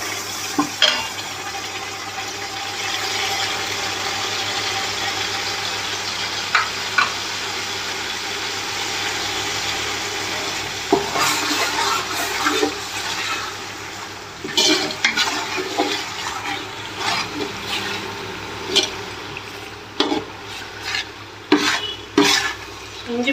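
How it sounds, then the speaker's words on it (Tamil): Ginger garlic paste sautéing with golden onions in a pan for chicken biryani, a continuous sizzle with repeated sharp scrapes and knocks of a spoon being stirred through, growing busier toward the end. "இஞ்சி பூண்டு வாசனை வந்து ஸ்மெல் போகிற வரைக்கும் நல்லா வதக்கிக்கணும்"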